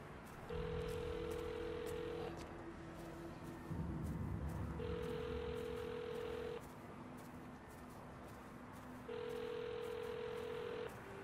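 A telephone rings in the Hitman video game, three separate electronic ring bursts spaced a few seconds apart over a quiet ambient background.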